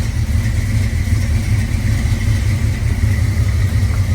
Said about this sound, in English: you just fire it up